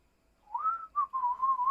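A single person whistles a short wavering tune, rising into a held note and then carrying on in a few linked phrases, clear and close against near silence.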